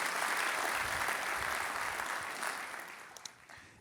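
An audience at a Long Beach civic event applauds project partners with a steady wash of many hands clapping, fairly faint and distant, tapering off toward the end.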